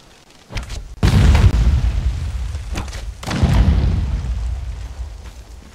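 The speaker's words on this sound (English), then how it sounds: "if you blow up that fence on the top part" Two heavy explosions blow up a fence while raiding a hidden base in the video game Conan Exiles: a loud booming blast near the start, then a second deep blast a couple of seconds later, each rumbling and fading away.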